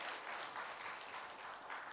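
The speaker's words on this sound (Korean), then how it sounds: "우리 박수로 하겠습니다." A church congregation applauds during a Sunday service, giving soft, continuous clapping that sounds distant and faint, with no one speaking over it.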